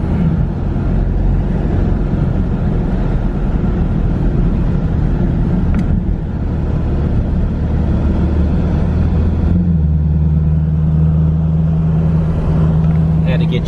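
A supercharged Dodge Challenger fitted with a ProCharger and a lift drives on the road, giving a steady, heavy low engine rumble throughout with some wind buffeting, deepening into a lower drone near the end.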